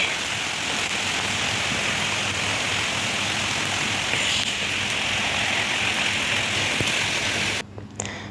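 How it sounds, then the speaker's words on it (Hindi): Loud, dense heavy rain drums steadily on a shed roof, a constant hiss of drops that briefly drops off near the end. "मैं आपको बारिश की आवाज़ सुना रही थी कि कितनी तेज़ नज़र तो नहीं आ रही लेकिन बड़ी शदीद किस्म की बारिश हो रही थी"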